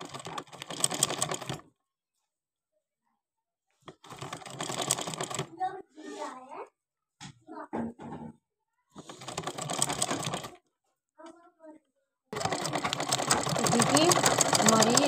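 A sewing machine stitches a seam on trousers in several bursts of steady mechanical whirring, separated by pauses; between the runs a person talks and fabric is handled.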